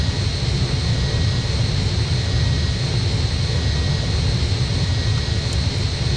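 Airliner in the Roblox game Flightline3D rolling off the runway after landing and taxiing toward the gate, a steady broadband engine roar with low rumble held at constant loudness throughout, with no voices.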